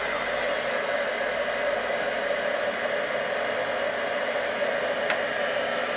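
A heat gun used for embossing on canvas tiles blows hot air in a steady, loud, close whooshing roar that runs unbroken throughout.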